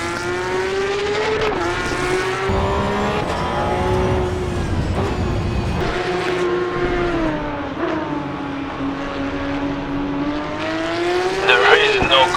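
A Porsche 911 races flat out around Bathurst in Assetto Corsa EVO, its engine droning and rising and falling through gear changes, with sharp backfire pops on lift-off and a loud burst of crackles near the end.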